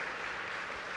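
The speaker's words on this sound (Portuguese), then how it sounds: "Você pode dar uma salva de palmas para Ele?" A congregation at a Christmas church service applauds, a dense, even wash of clapping heard from a distance and held at a steady level throughout the brief moment.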